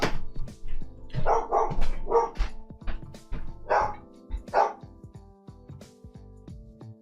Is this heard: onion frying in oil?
no